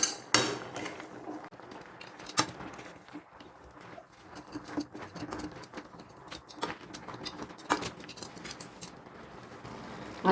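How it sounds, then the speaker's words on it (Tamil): Palak spinach cooking in a pan being stirred, with irregular scraping and clinking of a utensil against metal and soft wet shuffles, close and moderately loud, no talking. "நம்ம கிண்டி விட்டுக்கலாம்."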